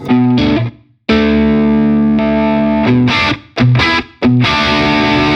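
Heavily distorted chords on a Nik Huber electric guitar ring out loud and thick, broken by brief pauses and quick choppy strums, with no voices.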